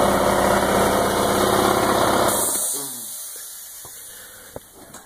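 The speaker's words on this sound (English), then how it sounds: "That was just the air compressor kicking on." An air compressor drones loudly and densely at close range, then drops away partway through, leaving a quieter background with a few small knocks.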